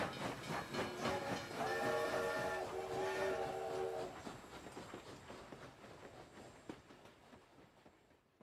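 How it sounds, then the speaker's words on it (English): Distant train horns sound in long sustained chords over a steady rumbling, hissing rail background, then fade as the noise thins out. "dozed off to the sound of train horns"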